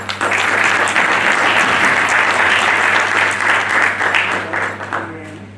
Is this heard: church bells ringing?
no